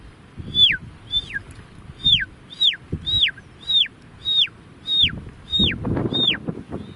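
A man mimics a baby chick with a series of about eleven high, thin downward-sliding peeps at a steady pace, close and clear, with soft background rustle beneath.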